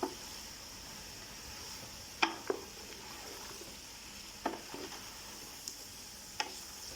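Tinda gourd fries in a pan with a faint, steady sizzle, broken by a few sharp clicks and taps of a utensil against the pan, close and quiet.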